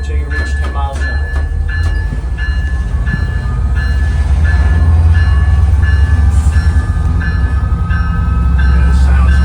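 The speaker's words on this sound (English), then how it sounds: "2 hits on the horn" Diesel locomotive at a railroad museum grinding and clattering steadily under power, with short horn blasts early on and people talking nearby.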